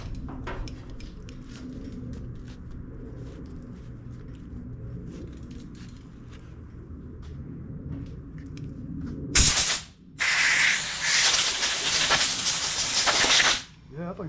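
An air blower blasts a John Deere L110 lawn tractor's new air filter in two loud hissing bursts, a short one then a longer one, after a stretch of low rumbling background.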